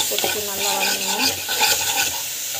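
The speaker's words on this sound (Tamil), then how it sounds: "உப்பு போட்டுட்டு நல்லா வதங்கணும்." Food with salt stirred and sautéed in a hot pan, a steady sizzle with repeated scraping strokes of a spoon against the pan, close and continuous, with no talking.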